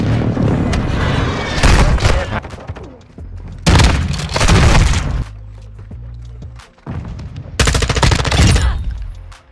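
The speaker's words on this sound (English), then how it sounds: "Friendly precision airstrike inbound." Precision airstrike explosions in the video game Call of Duty Modern Warfare 2: several loud, booming blasts land in separate bursts, each a few seconds apart, with crackling gunfire between them and a rumbling low end.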